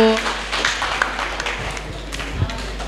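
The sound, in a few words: applause for group 1 after presentation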